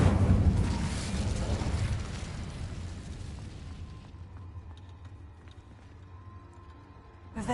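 An Incendio fire spell cast in a magic-school video game: a loud, roaring burst of flame that slowly dies away over several seconds, followed by quieter game sounds and faint clicks, with no talking.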